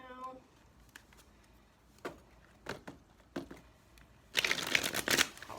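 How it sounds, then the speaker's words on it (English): Cards being riffled and bridged: scattered flicks and taps, then a dense, loud burst of rapid fluttering shuffles near the end. "I'm just going to go ahead and shuffle really well right now"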